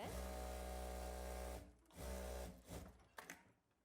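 Sewing machine stitching a frock, its steady motorized whir running in two long bursts that stop abruptly, followed by a few shorter, fainter runs and handling clicks.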